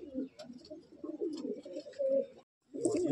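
A pigeon of the Madrasi/Andhra breed coos in low, throaty rolling calls, close up, with a short pause before the cooing resumes.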